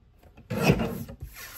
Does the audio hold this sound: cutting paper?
yes